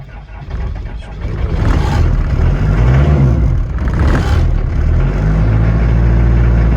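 A neglected Land Rover Series 3 engine runs with a steady, loud mid-pitched drone and a rattling clatter through the whole stretch, with no talk over it.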